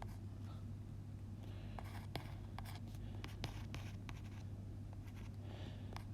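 A pen writing out mathematical working by hand on paper, faint scratchy strokes and taps at an irregular pace under a low steady hum, with no talk.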